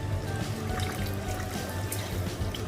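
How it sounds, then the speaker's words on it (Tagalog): Hot water is poured from a kettle or pot into a pot of mutton curry in a home kitchen, a steady, close trickling splash lasting a few seconds at moderate loudness, with no voices. "pwede na natin ilagay ang ating tubig"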